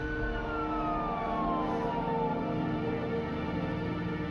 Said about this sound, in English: As the ambulance pulled away